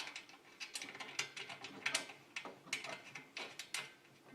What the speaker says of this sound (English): I'm going to put a nut in on this side.